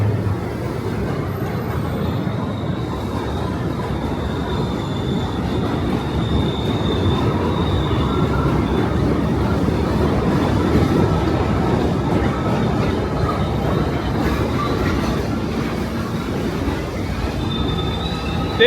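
An N line subway train rumbles steadily past on elevated tracks above 31st Street in Queens, New York City, loud and continuous, with faint metallic wheel squeal riding above the heavy roar.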